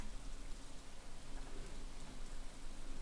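Rain falls in the Stardew Valley video game, a steady even hiss of rainfall with a low rumble beneath, moderately loud and with no talking.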